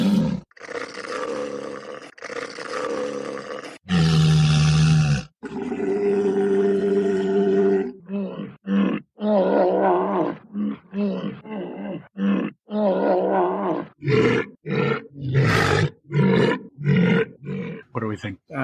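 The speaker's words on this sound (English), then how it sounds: "We were looking for walrus." A walrus vocalizes with deep roaring grunts and groans in a long, loud run of bursts of varying length, played as a guessing-game sound, with people talking around it.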